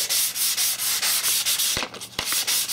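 1200-grit sandpaper rubs rust and pitting off a cast table saw top in rapid back-and-forth strokes, a loud, close, rhythmic scratchy hiss with a few brief knocks near the end.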